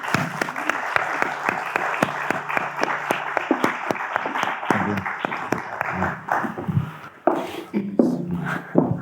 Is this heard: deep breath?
no